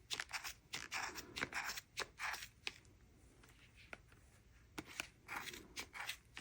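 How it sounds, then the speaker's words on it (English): Scissors snip through chunky crochet yarn at a granny-stitch hat, a quiet, close series of crisp crunchy cuts in irregular bursts, with short pauses between snips. "you want to get a pair of scissors that's going to cut through this"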